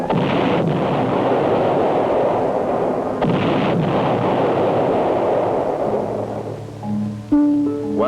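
Heavy artillery firing in the Vietnam War, a continuous barrage of deep booming blasts rolling together into a loud, sustained roar, with a tonal drone rising near the end.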